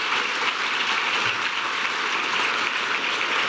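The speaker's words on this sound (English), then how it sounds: "Let's give our state senators a round of applause." Applause for state senators at the Colorado State of the State address fills a large chamber, a dense, even wash of many hands clapping at a steady level throughout.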